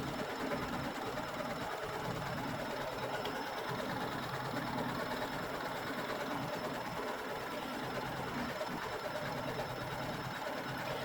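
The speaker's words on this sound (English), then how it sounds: "the quilting design is just going to decoratively quilt all of the layers together" An embroidery machine stitches a decorative quilting design through the layers of an in-the-hoop zipper bag, a steady rapid mechanical whir that runs unbroken throughout at moderate, close level.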